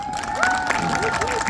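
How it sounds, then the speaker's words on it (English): An audience at a marching band performance claps and cheers for a high school band in a short burst, with crowd noise and a sustained tone underneath. "You clap."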